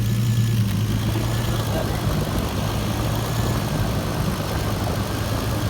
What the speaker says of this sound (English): Turbo is spinning nicely.